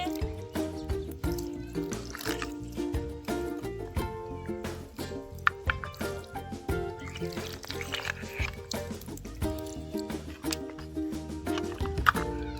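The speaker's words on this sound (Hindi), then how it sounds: "हमारे पहिए भी अच्छे से धुल रहे हैं" Water splashes and trickles over dirty toy vehicle wheels being washed, a steady close running and dripping sound with small plastic knocks throughout.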